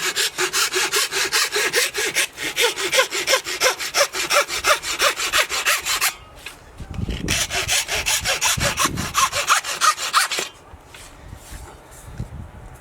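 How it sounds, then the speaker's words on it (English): Sandpaper rasps rapidly back and forth along the edges of a wooden terrain piece, loud close rhythmic scrubbing in two long bursts separated by a short pause. "I will use sandpaper to bevel all the edges to make it all smoother and nicer"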